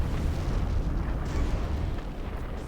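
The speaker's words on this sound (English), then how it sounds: "Commander explosion. Who blew up?" A commander unit blows up in a naval strategy video game match on a lava islands map, giving a loud, sustained rumbling explosion with no distinct attack that fills the short moment.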